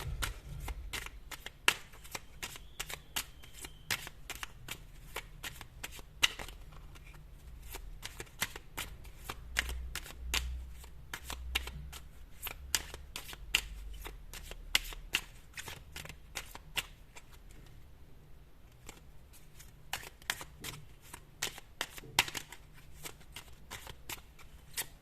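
Tarot cards shuffled steadily by hand during a reading, a long run of quick crisp riffling snaps and soft slides, close and fairly quiet, with no talking over it.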